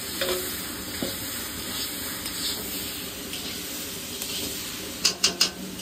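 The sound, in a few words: potatoes and spices frying and being stirred in a pan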